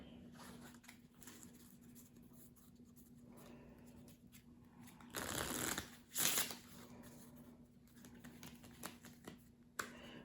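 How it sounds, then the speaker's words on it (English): Playing cards being shuffled by hand for a card game, two short riffling bursts amid quiet tabletop handling, faint and close, with no talk. "They're going to shuffle them up and get them out."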